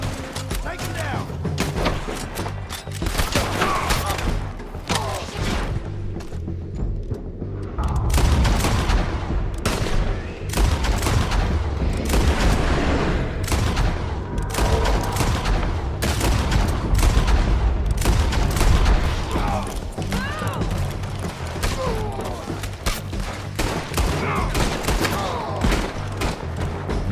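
Gunfire in Red Dead Redemption 2, rapid repeated shots and heavy thuds in a dense, continuous firefight, loud and close, with voices shouting amid the shooting.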